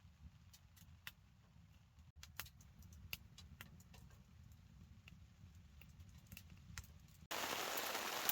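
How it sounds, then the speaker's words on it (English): Rain falls on a Pomoly Dome X4 hot tent with the stove lit during wild camping in Scotland, heard as faint, scattered taps and ticks on the fabric before a sudden loud wash of noise at the end. "I can hear the rain now"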